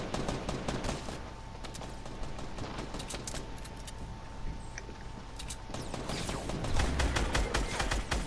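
Gunshots in a Fortnite match, sharp cracks in quick irregular bursts, fairly faint and distant, with a steady tone running underneath.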